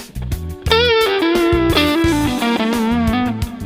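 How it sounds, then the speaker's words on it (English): Electric guitar played through stereo delay and reverb, a sustained melodic line of sliding notes over a repeating low riff, echoes trailing and washing across both sides, loud and continuous with no talk. "I recently put my guitar into stereo so you can hear how the delay, it's like on both sides"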